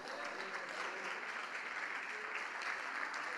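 A church congregation at a Portuguese-language prayer service applauds, producing a steady, fairly faint wash of clapping that runs unbroken throughout.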